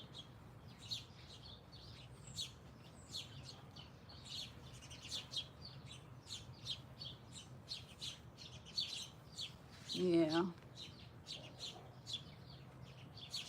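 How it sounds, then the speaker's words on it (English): Small sparrows that come to eat chicken feed chirp faintly and steadily in the distance for several seconds. A louder cluck-like call stands out once near the end, and a person briefly says a word. "All the sparrows, all these different little birds come and eat the chicken food."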